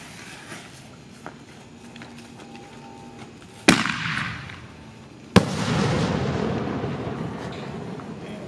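A Barbarian canister shell mortar firework goes off with two sharp, loud blasts a couple of seconds apart, each followed by a crackling, rumbling tail, over a quiet outdoor background.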